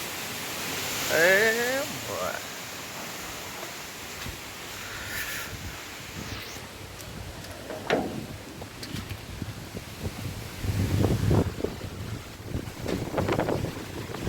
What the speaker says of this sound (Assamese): এতিয়া ধুনীয়াকৈ মজাকৈ চাইক্লনটো আহিলে।